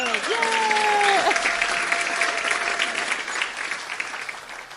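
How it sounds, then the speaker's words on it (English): A live improv podcast audience in Portland, Oregon cheers and applauds loudly and steadily, with a rising whoop near the start and dense clapping that slowly tapers off. "And the crowd goes wild."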